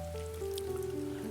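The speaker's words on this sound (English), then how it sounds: "mixed with a constant soft rain" Soft, constant rain falls as a steady hush beneath sustained, gently shifting tones, with no voices.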